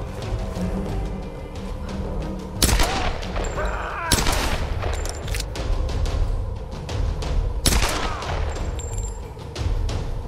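Rapid bursts of video game gunfire in Tomb Raider crackle continuously for about ten seconds, loud and dense, with sharper heavy shots punching through at intervals over a rumbling background.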